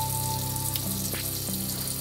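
Cold running water splashing as a face is rinsed under a tap, a steady soft hiss with faint splashes and no talking.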